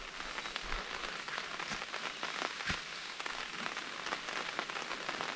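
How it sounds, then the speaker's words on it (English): Rain patters steadily on a surface at a canoe campsite in Temagami, with scattered distinct drops tapping nearby against a soft continuous hiss. "Here comes the rain."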